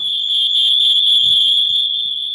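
A photoelectric smoke alarm sounds a loud, continuous high-pitched electronic tone, steady and piercing for the whole stretch with faint background noise beneath.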